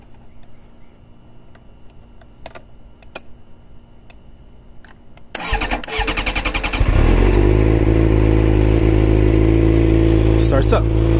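Motorcycle engine cranking over and catching after the starter relay is bridged, following several sharp clicks and ticks; the engine then settles into a loud, steady idle close by.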